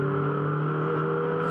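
A Mini Challenge race car's turbocharged 1.6-litre engine accelerating on a racing circuit gives a loud, steady, droning engine note that holds throughout with no talk.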